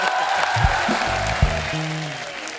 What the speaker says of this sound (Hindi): आइए, मेरी माँ के लिए जोरदार तालियां।